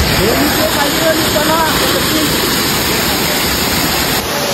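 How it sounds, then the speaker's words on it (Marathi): A steady, dense rush of falling water roars without pause, loud and close, filling the whole clip. "धबधबा बघा."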